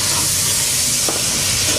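Onion and garlic frying in a pan while being stirred, giving a loud, steady sizzle and hiss close up with a brief scrape partway through, and no talking.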